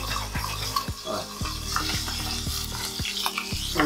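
Teriyaki chicken sizzles in a pan that is shaken and moved constantly, steady frying hiss broken by about eight sharp knocks and scrapes of the pan at a roughly even rhythm, close and with no talk.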